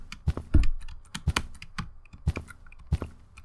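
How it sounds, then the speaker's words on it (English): Rapid, uneven mashing on a computer keyboard during an online stickman shooter game, close, sharp clacks and thumps in irregular bursts with no talking. "So you guys also get to hear me do horrible keyboard mashing."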